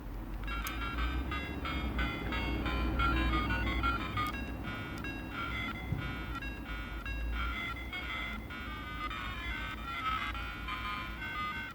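Chiptune-style music from the Crash Bandicoot rhythm minigame on the PocketStation handheld plays steadily for about twelve seconds, with a bright repeating melody over a dense, buzzy low bass, loud and without any voices.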